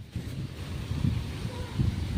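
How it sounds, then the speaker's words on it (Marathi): Strong gusts blow across the microphone ahead of rain in Konkan in March, a rough, uneven rumble that swells and dips in waves. "वारा बघा कसला सुटलाय."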